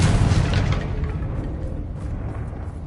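Confringo spell explosions in the Hogwarts Legacy game, a loud deep booming blast that rolls into a sustained rumbling roar and slowly fades, with no talking.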